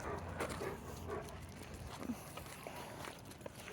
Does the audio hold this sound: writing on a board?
no